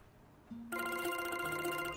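A telephone rings indoors with a steady electronic tone that starts suddenly after a brief low note, faint and alone, before an incoming call from a police station.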